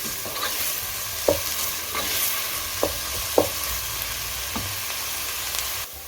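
Two chopped medium onions frying in a pan, a steady soft sizzle broken by several sharp scrapes and clicks of a utensil stirring against the pan, close and without talk.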